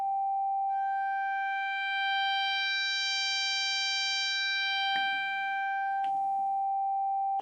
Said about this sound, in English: This is feedback in an FM synth